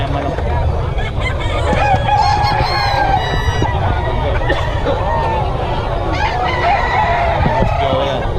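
Roosters crow and chickens cluck at a poultry market in Bocaue where birds are being sold. Several overlapping crows ring out close and loud over a dense babble of fowl and people talking.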